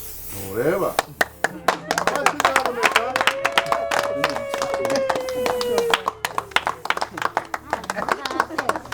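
Lively clapping from a wedding crowd for the bride and groom in a Rwandan comedy scene, with irregular sharp claps throughout and voices talking and calling out over them.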